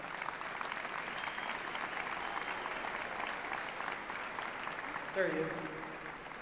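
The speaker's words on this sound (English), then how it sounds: "Let's give Coach Brewer a round of applause." A school district audience at a McAllen ISD talk gives Coach Brewer a round of applause, a steady, even clapping throughout, with a brief spoken remark near the end over the clapping.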